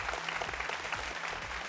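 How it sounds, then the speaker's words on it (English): Audience applause for Sandeep and Royal College at a televised school quiz contest, a short steady burst of clapping from a crowd, moderately loud with no voices over it. "while we applaud Sandeep and Royal College and also the opponents"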